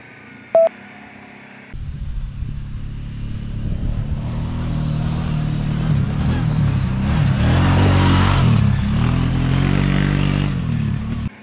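A Kawasaki Brute Force 750 ATV starts after a brief click, then accelerates with a loud, rough engine roar that builds and swells toward a peak before cutting off near the end.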